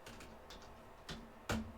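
A few soft, sparse keystrokes on a computer keyboard as a short terminal command is typed, quiet and close, with a slightly firmer tap near the end like a final key press.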